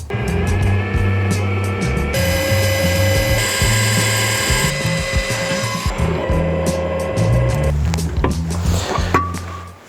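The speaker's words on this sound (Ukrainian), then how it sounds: "ми закінчили просверлювати, висверлювати заклепки" Continuous mechanical whirring and grinding from a power drill drilling out metal rivets on a seeder coulter, steady and loud, with shifting pitch as the bit bites into metal, ending in rougher scraping.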